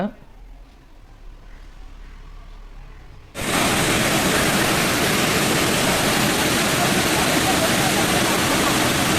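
A quiet outdoor ambience abruptly gives way to the loud, steady, broadband roar of Beema Falls in the Javadhu Hills, India, up close, continuing unbroken.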